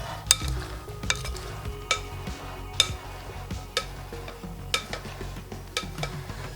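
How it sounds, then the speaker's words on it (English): Mexican-style bean salad with garlic, jalapeno, lime juice, salt and pepper being mixed in a bowl, a steady run of close scraping and clinking stirring strokes, with sharp utensil knocks every second or so. "You gotta mix it very well"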